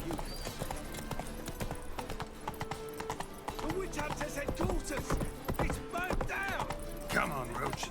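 Roach, Geralt's horse in The Witcher 3: Wild Hunt, clip-clops along at a steady trot, the hoofbeats close and continuous through the whole stretch, layered with game music and a voice talking over them.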